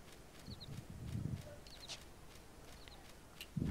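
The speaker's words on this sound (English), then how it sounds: "I got birds chirping" Faint bird chirps in the outdoor fields of the game Final Fantasy XI, a few short twittering calls spaced about a second apart over a soft ambient bed, accompanied by rustling as a character runs through grass.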